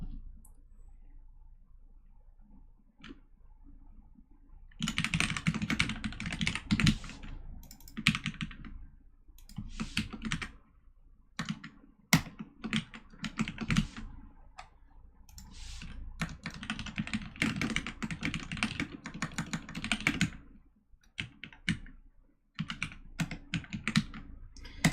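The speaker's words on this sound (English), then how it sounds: "Yo, Anson, love those keyboard sounds." Rapid typing on a computer keyboard during a live coding session, with dense bursts of clicky keystrokes and short pauses, sounding close and clear with no talk over it.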